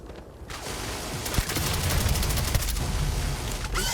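Gunfire in the video game Starfield during a fight with hostile creatures at Hamadi Station: rapid, sustained automatic shots crackling continuously with booming impacts, loud and dense throughout.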